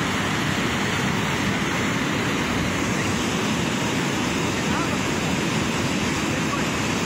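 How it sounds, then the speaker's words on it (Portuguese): Floodwater pouring across the BR-116 highway in Jequié, a loud, constant broadband rush of moving water mixed with wind and a roadside traffic hum. "A água cruzou a pista."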